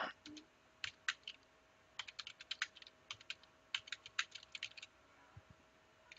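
Keys clatter on a computer keyboard as text is typed in Illustrator, a close run of sharp clicks in irregular bursts with short pauses between, over a faint steady hum.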